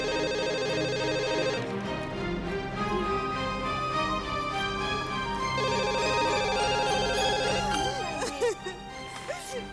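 A telephone ringing in repeated electronic trills, fairly loud, with a pause between rings and faint voices underneath.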